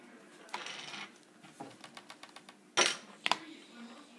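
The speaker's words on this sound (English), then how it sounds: "You want to tape it like two or three times." Tape pulled off a roll and wrapped two or three times around a homemade mask, quiet close sticky rips and crinkles in short bursts with small clicks between.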